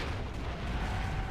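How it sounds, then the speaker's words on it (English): An explosion rumbles in the mech combat game MechWarrior 4: Vengeance, a dense, low, sustained roar with rolling bass that fills the short moment without a sharp attack. "try not to get too close to the explosion"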